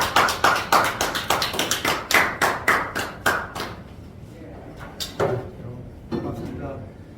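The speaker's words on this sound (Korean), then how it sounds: "뜨거운 박수 부탁드리겠습니다." Brisk, close hand claps from a small forum audience greeting a guest speaker, rapid and dense for a few seconds before thinning to scattered, isolated claps over quiet room noise.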